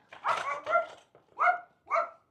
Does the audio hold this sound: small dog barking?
yes